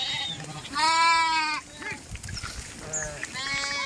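Sheep and goats grazing in the rainy Gir countryside let out several loud, nearby bleats, one long quavering call followed by shorter ones, with scattered outdoor noise between.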